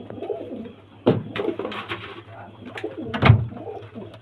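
Pigeons for sale at a Bamangachhi, North Barasat pigeon market coo in rolling, throaty bursts close by, swelling loudly twice amid a constant low murmur of birds.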